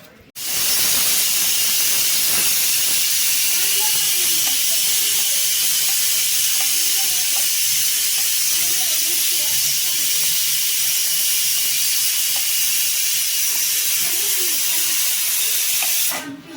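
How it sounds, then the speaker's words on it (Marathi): A pressure cooker lets out a long, loud whistle of escaping steam, a steady close hiss that starts abruptly and holds for over fifteen seconds before cutting off, with faint rattling beneath and no talking. "एक शिटी झाली"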